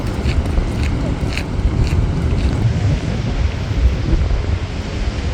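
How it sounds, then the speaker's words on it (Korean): Ocean waves at Rottnest Island, Australia, a loud, continuous low rumble and wash mixed with heavy wind buffeting the microphone. "파도."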